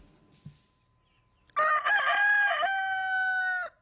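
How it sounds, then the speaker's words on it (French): A Gallic rooster of the oldest French breed crows once, a loud, clear, drawn-out call lasting about two seconds in a quiet setting, with no voices. "Le coq gaulois, le vrai, est en voie de disparition."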